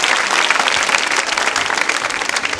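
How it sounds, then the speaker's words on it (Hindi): A quiz-show audience at a girls' B.Ed college Holi event claps loudly for a contestant, dense and steady applause filling the room without pause. "प्रियंका जी के लिए तालियां जोरों से बजाइए"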